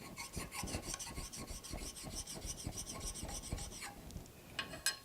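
Short, quick rasping strokes run in a steady rhythm as the old burr is honed off the edge of a wood-turning tool, close and fairly faint, ending with a few lighter scrapes.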